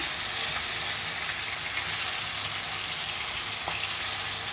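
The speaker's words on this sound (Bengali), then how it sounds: "এবার ও পিঠটাও বেশ লাল করে ভেজে নেব।" Fish fry in hot oil in a pan with a continuous, even sizzle and hiss, close and moderately loud, broken only by a few faint crackles, with no one talking.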